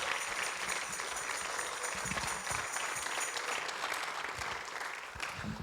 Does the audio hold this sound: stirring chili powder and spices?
no